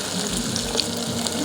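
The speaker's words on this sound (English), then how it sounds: "So I'm going to add this water here." Reserved water from boiling matoke poured into a pan, a steady close hiss and splash throughout the short moment, with no voices.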